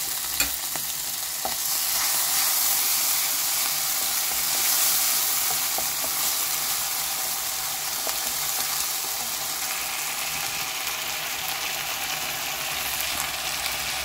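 Sour yogurt hisses and sizzles steadily in a hot frying pan over roughly fourteen seconds, with faint scrapes and clicks of a spoon stirring it through ground nut paste, close and without any talking.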